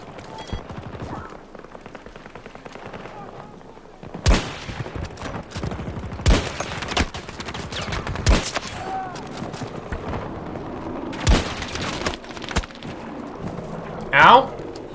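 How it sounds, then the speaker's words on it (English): Gunfire in the video game Battlefield 2042 on a new Season 4 map: loud, sharp shots ring out in irregular bursts across the whole stretch, with a player talking between and under them. "I've been shooting here a lot."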